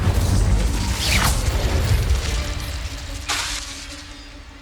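The Incendio fire spell in Hogwarts Legacy bursts out with a rushing, crackling whoosh over a deep rumbling bed, followed by a second sharp flare of fire a couple of seconds later.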